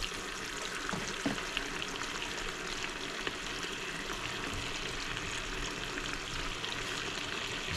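Chinese spinach sautés with garlic in a pan, a soft, even, continuous sizzle with faint crackles, heard alone and fairly quiet.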